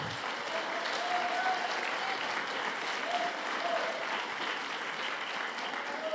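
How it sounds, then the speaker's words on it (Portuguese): A church congregation applauds steadily, a dense, even patter of many hands clapping, with faint voices and a few cheers mixed in. "É para ele essas palmas."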